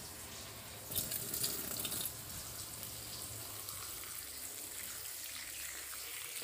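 A kitchen tap runs steadily while vegetables are washed for a mixed vegetable stir-fry, with a brief louder splash near the start and no talk.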